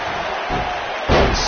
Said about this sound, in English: Sickening thud as his body is driven to the mat